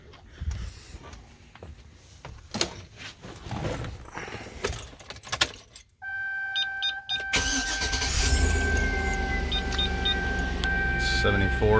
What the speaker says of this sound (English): So what I'm going to do now is start up the truck and crank up my AC